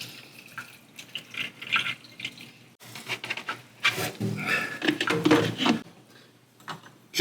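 Rapid fixer pours from a jug into a film developing tank, liquid splashing and trickling in uneven bursts with small clunks and knocks of the tank and bottle nearby.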